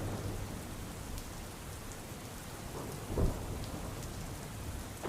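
The season's first heavy downpour falls in Banaskantha district as a dense, steady hiss of rain. One brief low thump of thunder rolls in partway through, with no voices.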